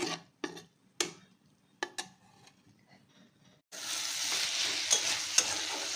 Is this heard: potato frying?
yes